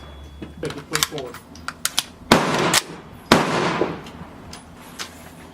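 Two loud, sharp rifle reports from a Bushmaster ACR fired at an outdoor range, each a broadband blast with a short decaying tail, preceded by faint clicks and light handling noise.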